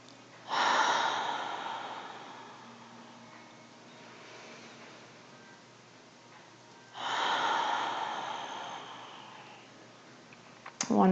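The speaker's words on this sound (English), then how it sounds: "We'll just do a few more breaths." Two slow, deep breaths during a gentle yoga session, each a long airy rush several seconds apart, close and fairly soft with quiet pauses between.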